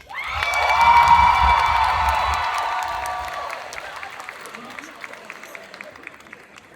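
An audience at a cosplay contest applauds and cheers loudly for a contestant, with shouts and whoops swelling in the first seconds, then the cheering fades while scattered clapping continues to the end.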